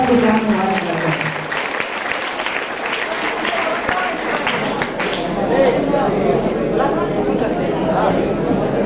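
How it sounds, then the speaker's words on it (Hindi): Loud, sustained applause from an audience at a school gathering, with dense clapping and crowd chatter running throughout. "जोरदार तालियों से स्वागत करना।"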